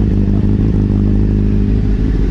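A 2008 Honda CBR600RR sport bike with an aftermarket undertail exhaust idles loud and close, its throttle blipped in a steady, throbbing rumble with a rattly edge throughout.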